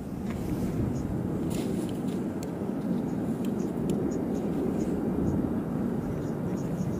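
Jet airliner at Ted Stevens Anchorage International Airport, a steady broadband engine roar that fills the whole stretch at a constant level, with wind buffeting over it and no talk.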